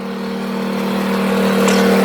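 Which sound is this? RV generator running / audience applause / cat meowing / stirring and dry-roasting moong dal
RV generator running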